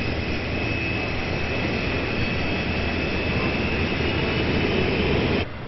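A twin-engine CF-18 fighter jet roars with a loud, sustained whine and rumble that holds steady for several seconds before dropping off abruptly at the end.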